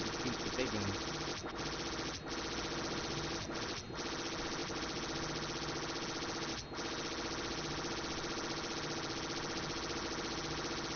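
Rapid gunfire rattles continuously in the video game Disney Infinity 3.0, a dense, unbroken burst of shooting with a few brief dips, while voices talk faintly beneath it.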